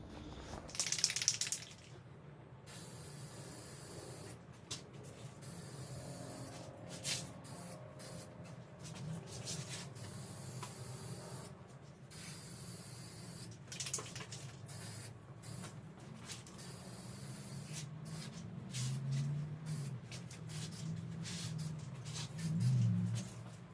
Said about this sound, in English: so we are ready for our final coat of clear coat.